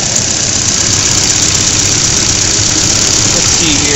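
Volvo 740 engine running with a loud, continuous, clattery diesel-like knock, steady throughout, with a voice talking over it.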